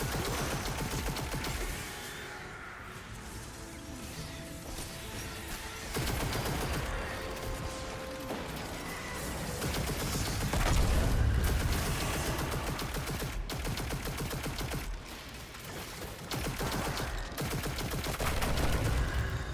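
Sustained gunfire in a run-and-gun video game, a steady barrage of rapid shots with explosions mixed in, running continuously for about twenty seconds at moderate volume with occasional louder swells.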